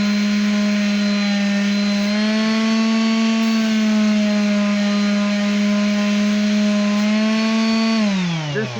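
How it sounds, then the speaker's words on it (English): A power sander works a wooden dreidel close up, a loud steady motor whine that holds a constant pitch, shifts slightly midway and winds down at the end. "I was kind of talking my last line over the sander"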